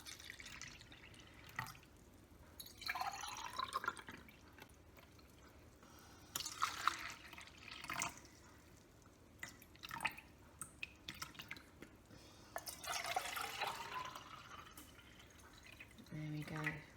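Water is poured into several containers one after another, each fill a short trickling, splashing run with quiet pauses between, soft and nearby, with speech at times.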